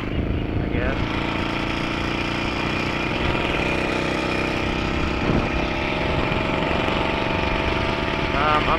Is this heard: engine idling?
yes